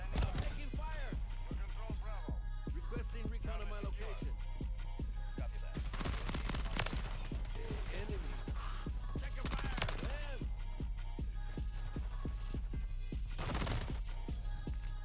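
Gunfire in Call of Duty: Modern Warfare III with a P90-style PDSW 528 SMG, repeated sharp shots and bursts throughout over steady game ambience, with a player talking over it.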